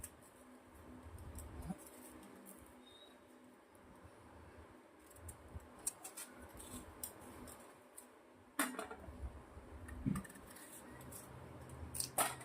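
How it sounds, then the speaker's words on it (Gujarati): A knife cuts raw green mango into large pieces on a board for sweet-sour mango chutney, with scattered sharp taps and scraping clicks at an uneven pace, a few louder chops near the end, close and fairly quiet. "હવે આપણે કેરીને સમારી લેવાની છે."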